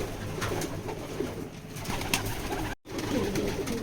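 A male racing pigeon coos in soft, repeated low calls close at hand, over a steady background hum, with a brief dropout near the end and no talking.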